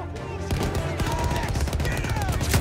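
Rapid automatic gunfire and scattered shots from a Battlefield 1 firefight, dense and continuous for the whole stretch, with a voice faintly under the din.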